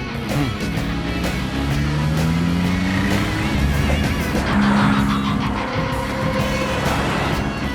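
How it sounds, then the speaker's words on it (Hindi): A car engine revs and pulls away with rising and falling tones, tires squealing briefly as it accelerates off, loud and close throughout with a busy background. "गाड़ी स्टार्ट कीजिए, जल्दी गाड़ी स्टार्ट कीजिए"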